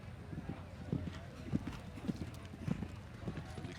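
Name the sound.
show-jumping horse hooves in the ring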